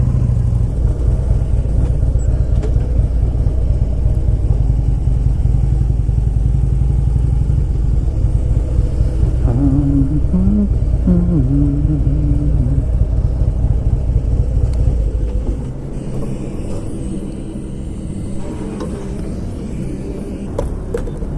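Kawasaki motorcycle riding on the road, a steady loud engine drone with wind rumble that carries on continuously, then drops to a lower, quieter idle-like hum toward the end.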